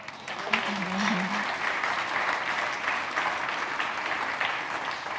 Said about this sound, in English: At this point, you get ready to clap, right?